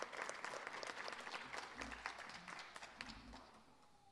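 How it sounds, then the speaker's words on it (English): A high school awards ceremony audience applauds graduating seniors, with dense, fairly quiet clapping heard from a distance that slowly tapers off. Faint low rumbles and a few voices sit under it. "let's give these students another round of applause"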